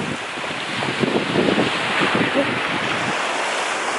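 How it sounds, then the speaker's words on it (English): Ocean surf rolling onto a Gulf Shores beach, a steady wash of breaking waves mixed with wind buffeting the microphone, continuous and fairly loud with no voices. "Every time I see a big body of water like this, an ocean"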